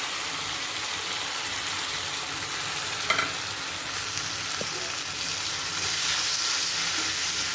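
Fried bata fish pieces are laid into a mustard masala in a pan, giving a steady close sizzle and hiss with a couple of light knocks and a slight swell of frying toward the end.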